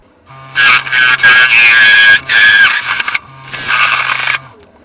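A wood lathe parting off the tenon of a sycamore lidded box, with loud bursts of harsh scraping and cutting over a steady motor hum, pausing briefly between passes.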